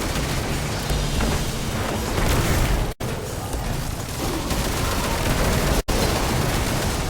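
A rapid, dense burst of machine gun fire roars almost continuously in Destiny 2 Lightfall, mixed with booms and explosions, broken by two brief cutouts.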